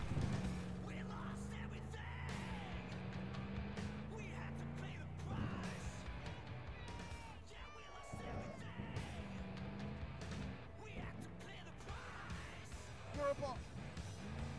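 A car driving in the video game Cyberpunk 2077 gives off a steady engine drone that runs the whole stretch, mixed with scattered game effects and occasional bumps, at moderate loudness.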